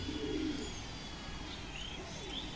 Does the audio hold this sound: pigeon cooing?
yes